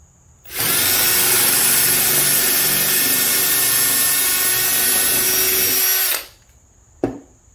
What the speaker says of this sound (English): Step five, we're gonna drill our hole.